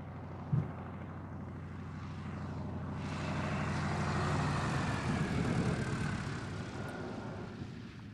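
A Fokker D.VIII model airplane's propeller engine drones steadily as the plane comes in for a touch and go on a narrow runway, swelling louder midway as it passes.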